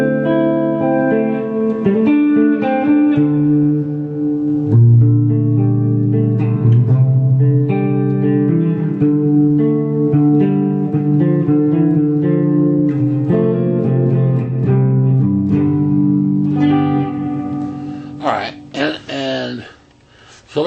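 An electric guitar is heard through a Plethora X5 pedal with its effects switched off, playing a clear, close run of chords and single notes for about twenty seconds, with brief pauses and handling noise near the end.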